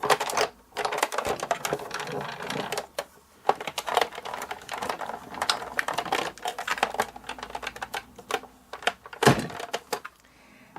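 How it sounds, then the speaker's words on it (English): A Big Shot die-cutting machine cranking cardstock and cutting plates through: a long run of close, dense clicking and rattling with ratchet-like ticks and brief pauses, a heavier thump near the end before it stops. "Now I place my top cutting plate on top, and then I'm ready to run it through the big shot."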